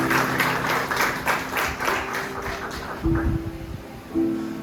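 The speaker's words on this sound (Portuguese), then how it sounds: "Uma salva de palmas por esta palavra" Applause from a church congregation after a sermon reading, loud at first and gradually thinning out, with a sustained low tone from an instrument or sound system underneath and no speech.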